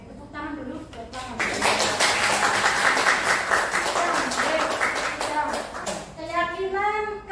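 A classroom group of students claps hands together in a lively burst, with children's voices chattering before and after the clapping.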